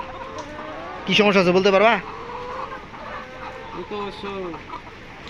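Layer hens on a poultry farm cluck and call in a burst of loud, rapid notes, with people talking nearby before and after.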